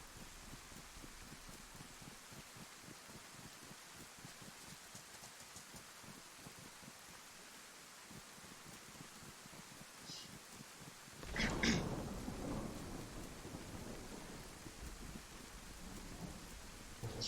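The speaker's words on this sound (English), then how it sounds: "Every time one of these storms rolls in, it's just like the last time." A thunderstorm in a survival roleplay video game brings steady pattering rain on surfaces, then a close thunderclap bursts out partway through and rumbles on under the continuing rain.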